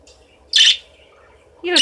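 A pet bird indoors gives two loud, close chirping calls, one short burst and then a rising call after a brief pause, over a faint low hum.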